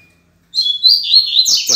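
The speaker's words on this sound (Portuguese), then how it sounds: "Coleiro Braddock aí, ó." A double-collared seedeater (coleiro) sings loose in a room. After a brief silence, close, bright, high chirping phrases run in a quick continuous burst to the end.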